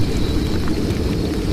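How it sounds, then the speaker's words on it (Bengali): Stormy rain and thunder for a rural Bengali horror story: a loud, dense, unbroken roar of rain with a deep low rumble underneath, no voices. "এই ঝড় বৃষ্টি আর অন্ধকারে হাঁটতে বলছে"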